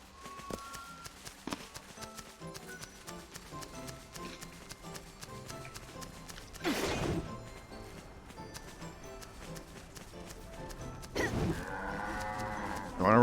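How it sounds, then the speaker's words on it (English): Bleating livestock in the video game Final Fantasy 13: Lightning Returns, a runaway sheep calling among busy game music with footsteps and clip-clop sounds, two louder cries standing out near the middle and end. "There's one of the runaway sheep."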